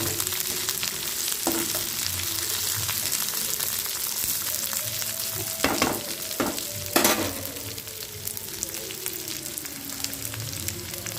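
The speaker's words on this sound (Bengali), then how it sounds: "এদিকে আমি তেল পটলও তৈরি করছি, রান্না করছি।" Pointed gourd cooks in oil in a pan with a loud continuous sizzle, broken by several sharp utensil scrapes and knocks midway.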